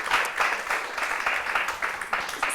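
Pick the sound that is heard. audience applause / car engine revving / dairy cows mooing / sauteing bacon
audience applause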